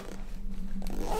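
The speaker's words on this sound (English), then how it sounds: "Zip this back up real quick." A zipper on a compartment of a DJI Mavic 3 drone backpack is pulled shut close by in one quick continuous stroke.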